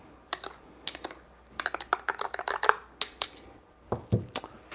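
Glasses clink together in a series of sharp, bright, close taps, some quick and clustered, others spaced apart, as an espresso is tasted, with a soft knock near the end.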